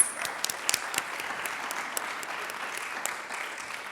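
Audience applause at an agriculture and fisheries event, steady dense clapping from a crowd with a few sharper near claps standing out, held at moderate level throughout.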